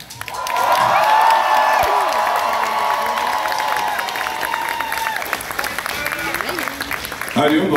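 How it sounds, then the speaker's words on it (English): A concert crowd at Baltimore Soundstage bursts into applause and cheering, swelling quickly to a loud sustained roar of clapping and whoops, then easing slightly as a voice over the PA and music come in near the end. "give a very special round of applause"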